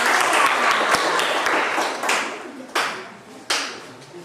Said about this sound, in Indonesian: Kita berikan aplaus buat kelompok.